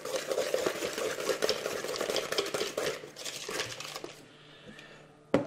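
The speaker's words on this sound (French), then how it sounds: "Donc on rajoute la poudre d'amande, les 100 grammes. Voilà, on mélange bien le tout." Almond powder stirred into a cream mixture in a bowl, a busy scraping and swishing of a utensil close by for several seconds, then tapering off into quieter clinks.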